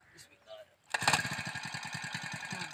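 A petrol engine machine fires up after a brief pause, then settles into a loud, steady, rapid chugging idle close by, with faint voices before the start.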